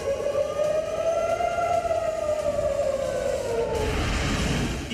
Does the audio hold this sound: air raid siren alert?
yes